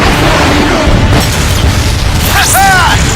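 A heavy artillery blast from the giant Autobot Metroplex in Transformers: Fall of Cybertron booms loudly in a broad low rumble, followed by sweeping whistling game effects, with a voice speaking over it.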